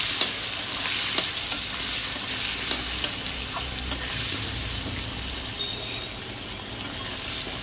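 Potato pieces fry with turmeric and salt in a hot pan, giving a steady broad sizzle with scattered scraping clicks and knocks of a spoon stirring them, no voices.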